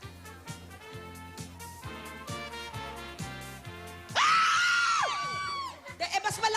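A studio audience on a Filipino noontime variety show bursts into loud, sustained screaming over a pulsing music beat, swelling suddenly and then breaking into scattered yells.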